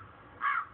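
A single crow caws once, short and harsh, heard at a moderate distance against a quiet background.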